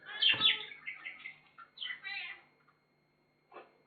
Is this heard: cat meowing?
yes